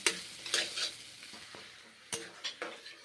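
Cauliflower stalk chorchori being stirred and fried in a pan, with a spoon scraping in several distinct strokes over a steady low sizzle, close by and with no talking.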